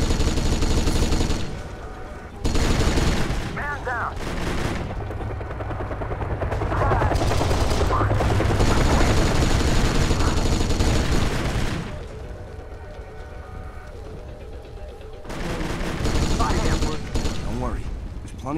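Bursts of gunfire and machine-gun rattle from the Kane & Lynch: Dead Men video game, loud rapid volleys broken by short pauses, with someone talking at times over the shooting.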